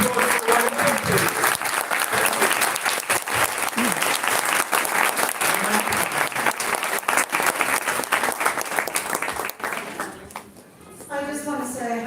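Sustained, loud applause from a crowd honoring a team, steady clapping with a few faint voices and cheers mixed in, dipping briefly near the end before picking up again.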